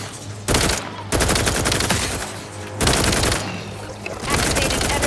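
Gunfire from the video game The Outer Worlds 2 cracks out in sustained automatic bursts, loud and dense with brief gaps between volleys, and game voices can be heard.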